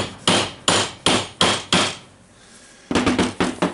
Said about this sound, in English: and of course hammer it